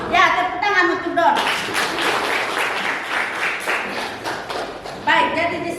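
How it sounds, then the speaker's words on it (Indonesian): Classroom clapping for a student in a ninth-grade civics lesson: a burst of many hands clapping for about four seconds, close and lively, with a teacher's voice just before and after. "tepuk tangan untuk Don"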